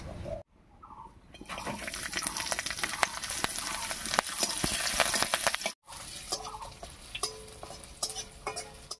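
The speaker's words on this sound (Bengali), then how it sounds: "তেল গরম হয়ে গেছে, তেলের মধ্যে দেব কয়েক কোয়া রসুন আর কয়েকটা কাঁচা লঙ্কা।" Garlic cloves and green chilies fry in hot mustard oil in a wok, giving a steady crackling sizzle with stirring scrapes, briefly cut off mid-clip and resuming a little softer.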